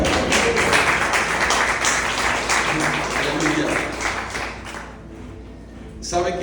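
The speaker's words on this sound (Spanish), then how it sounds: "¿Cuántos le dan las palmas a Cristo?" A church congregation claps for Christ in a dense, steady burst of applause that carries on for several seconds, then thins and drops away, with a few voices mixed in.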